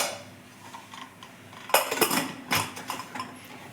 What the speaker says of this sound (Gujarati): હવે આ કુકરનું ઢાંકણું આપણે બંધ કરી લઈશું